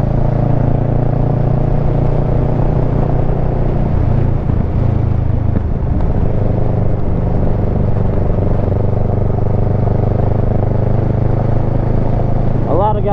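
Kawasaki Versys 650 motorcycle with a modified front tire, engine droning steadily at cruising speed on a test ride, with wind rush throughout and a slight rise in engine pitch near the end.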